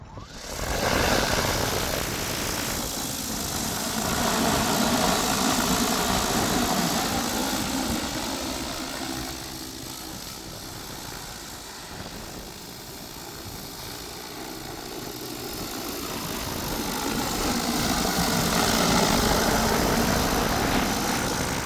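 An X11 heavy-duty quadcopter drone's motors whine and buzz continuously for a long stretch in strong wind, the pitch wavering as it moves, fairly loud with wind noise underneath.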